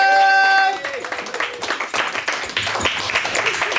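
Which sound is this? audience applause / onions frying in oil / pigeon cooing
audience applause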